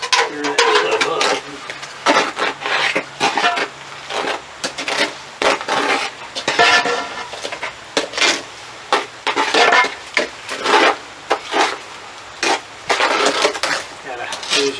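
Cement mix being stirred in a kitchen pot while building a forge, with repeated scraping and knocking strokes in an uneven rhythm, close and fairly loud.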